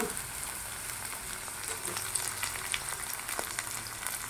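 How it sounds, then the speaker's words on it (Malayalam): Chopped ginger, green chillies and garlic fry in oil in a pan, giving a continuous bright sizzle with small crackles and pops, close and fairly quiet, with no voices. "നല്ലതുപോലെ ഇളക്കി കൊടുക്കണം അടി എരിയാൻ പാടില്ല ഇഞ്ചിയും പച്ചമുളകും വെളുത്തുള്ളിയൊക്കെ മൂത്ത് കഴിഞ്ഞ്"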